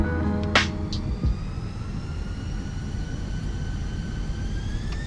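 Airbus A320 engines in a flight simulator spooling up for takeoff, a steady rising whine over a broad roar that holds loud and continuous, with a couple of brief clicks near the start.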